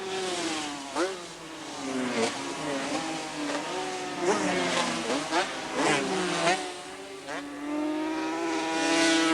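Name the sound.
racing motorcycles, TZ Yamaha, at a 350 GP race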